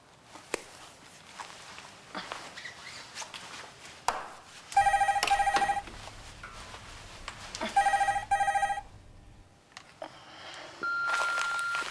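A telephone bell rings in two loud bursts indoors, each a rapid trilling ring lasting about a second, separated by a pause, amid quiet room noise and light movement sounds.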